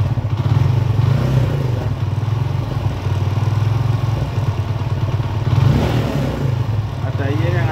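A Kawasaki KLX dirt bike with an electrical charging fault revs hard to high rpm, a loud buzzing engine note pulsing steadily close by, with someone speaking over it.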